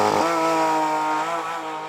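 A Porsche 911 GT3 RS engine accelerates hard during a launch, a loud close harmonic roar climbing in pitch after a brief low start, steady and intense throughout with no talking.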